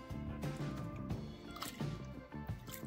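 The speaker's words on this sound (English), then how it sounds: "clean the water out, change it," Water being emptied from a gold panning tub, with soft splashing, dripping and trickling sounds, quiet and close, with no talk.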